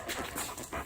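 A dog pants steadily at close range, quick breathy huffs repeating without pause through a short moment indoors.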